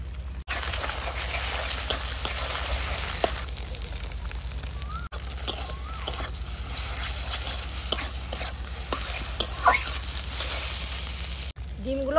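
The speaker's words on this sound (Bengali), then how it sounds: "এবার ডিমগুলো ভেজে নেব।" Eggs frying in mustard oil in a pan, a continuous close sizzle with small pops and crackles that holds steady throughout, with no voices.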